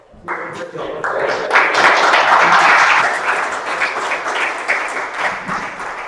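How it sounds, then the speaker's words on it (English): Spontaneous round of applause at a community meeting, clapping rising quickly, swelling loud for a couple of seconds, then thinning into scattered claps with voices mixed in. "spontaneous round of applause"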